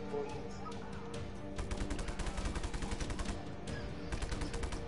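A rapid, dense volley of blasts and crackling bursts from a PlayStation video game, moderately loud, with a voice faintly present underneath.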